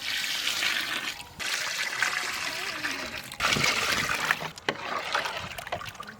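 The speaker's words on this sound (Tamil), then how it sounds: "சூப்புக்கு தேவையான அளவு தண்ணி ஊற்றிப்போம்" Water pours and splashes in bursts into a soup pot for mutton soup, a steady rushing stream with brief pauses, close by.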